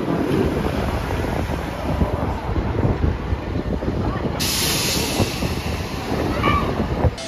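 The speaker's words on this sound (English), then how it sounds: "it's very windy here on the lake" Strong wind off a lake at Cedar Point amusement park buffets the microphone in a steady, loud, rumbling roar with no break, one sudden gust-like surge near the end.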